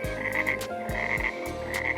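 Frog croaking in a pond, a string of loud, close, rhythmic croaks repeating steadily, with no voices.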